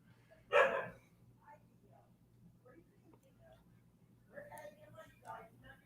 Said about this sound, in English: Sorry about the dogs, y'all.